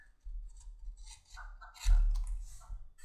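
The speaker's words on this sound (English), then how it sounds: "you can just use that knife to follow right along the edge of that thicker piece of leather" A trim knife cutting along the edge of thick leather for a pistol paddle holster: a short close scraping cut with a few soft clicks, then a firmer crunching stroke near the end.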